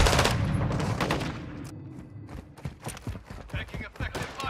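Call of Duty: Modern Warfare II gunfire opens with a heavy, loud burst, then breaks into rapid, crisp shots in quick clusters, with game voice callouts in the background.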